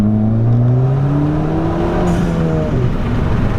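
A Ford Fiesta ST Stage 3 hatchback accelerates hard, heard from outside: a loud, steadily rising engine note that climbs through the gears and then tapers as the car pulls away.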